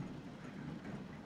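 A tram running on its line in the city-building game Transport Fever 2, a steady low rumbling roll with faint track clatter, continuous and moderately quiet with no talk.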